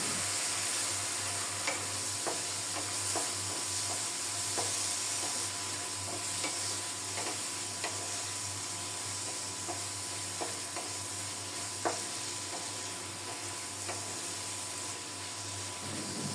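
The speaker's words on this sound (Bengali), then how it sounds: "মশলাসহ সবজিগুলো খুব সুন্দর মতো কষিয়ে নেব" Vegetables with ground spices, turmeric, onion and green chilli sautéing in a pan, a soft continuous sizzle broken by light spoon taps and stirring, fairly quiet and without talk.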